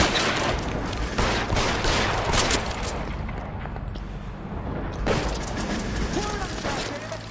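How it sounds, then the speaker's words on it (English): Rapid, loud gunfire in a shootout in L.A. Noire, volleys of shots cracking close by in dense bursts, briefly easing before another barrage, with voices talking through the fight. "Keep shooting. I want him dead."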